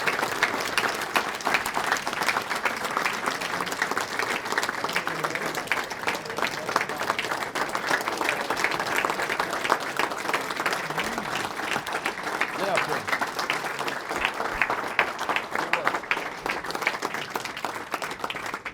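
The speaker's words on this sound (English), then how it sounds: "join me in a quick round of applause for Bob and his vision" A Nebraska Baseball Hall of Fame induction crowd gives a long round of applause, steady dense clapping lasting many seconds with a voice faintly present beneath it.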